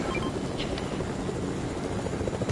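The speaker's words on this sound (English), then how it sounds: "I want to shoot this chopper down" Helicopter in a shooter video game, a constant, dense rotor and engine roar that fills the clip at steady loudness, close and alone with no speech.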